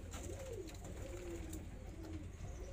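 A pigeon coos softly and repeatedly, with low rolling calls over a constant background hum.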